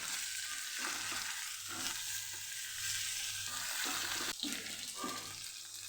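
Okra frying in a pan for a Kathiyawadi masala dahi bhindi, with a steady close sizzle and scraping stir strokes repeating throughout, plus a faint water-like hiss.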